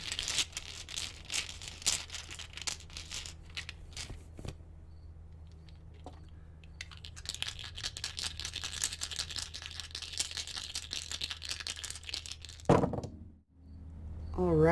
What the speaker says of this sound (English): These are pretty loud when I shuffle them